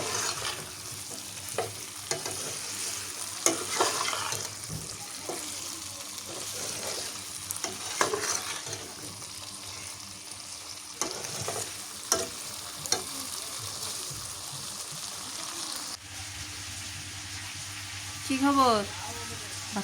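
Potatoes and another vegetable frying together in a pan, stirred with a spatula while cooking a hotel-style vegetable curry: steady close sizzle with repeated scraping strokes, a brief voice and a child's sound near the end.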